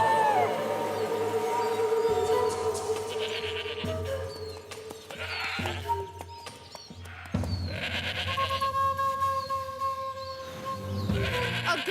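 A goat bleats in a forest in a cartoon, several drawn-out cries rising over a music bed, with short pauses between calls.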